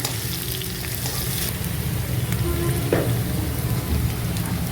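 Spring onion bulbs sauté in a pan for chilli garlic chicken noodles, producing a steady, close sizzle with light crackle and occasional utensil scrapes, no voices.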